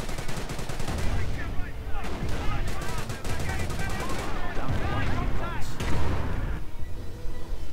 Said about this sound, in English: MG blasting away